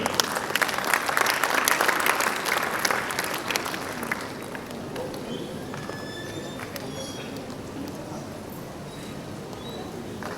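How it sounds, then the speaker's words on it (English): An audience at an award ceremony breaks into dense applause, loud for about four seconds and then thinning to scattered claps under a background murmur of voices. "Can we have a round of applause,"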